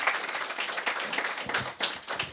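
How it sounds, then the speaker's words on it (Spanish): An audience applauding on a Spanish-language talk show, a dense, continuous patter of many hands clapping together with a brief dip partway through before it resumes. "Un fuerte aplauso para ellos"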